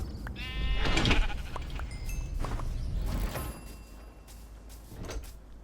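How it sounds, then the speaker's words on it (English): Minecraft sheep bleats several times, a wavering harmonic cry repeated over a few seconds amid game ambience and footsteps. "I just hear a sheep? I did, and I see one too."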